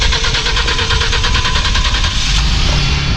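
A 2016 Ford Transit van engine running just after a fuel pump replacement, a loud, close, rough idle with a steady rhythmic chug throughout the short stretch, and no talking.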